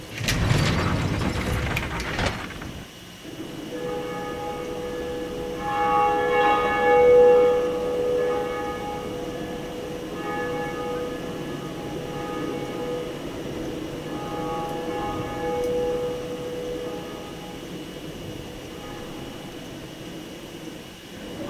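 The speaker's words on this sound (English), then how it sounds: "Ring the bell, Undead Church." A church bell tolls in a Dark Souls cutscene at the Undead Church, ringing steadily with a lingering metallic hum over a constant noisy background, following a loud clattering burst at the start.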